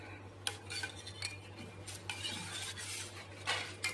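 A spoon stirs cardamom powder into thickened, chilled milk for homemade ice cream, giving soft scrapes and light clinks against a metal pot or bowl over a steady low hum.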